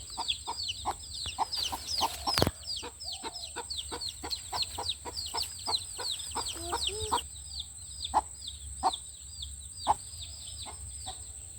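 Chickens cluck in a quick, busy run of short calls, close by, over a low steady background rumble.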